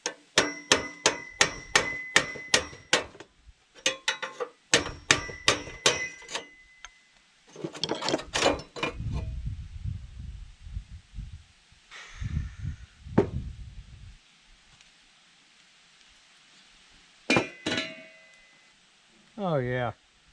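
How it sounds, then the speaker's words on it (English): Metal tapping on a rusted pipe of an Atwood 8531 RV furnace, a run of sharp ringing clinks in quick bursts, close and loud, with pauses and a few scraping knocks, no voices. "I can tap it and get it to come on off of there"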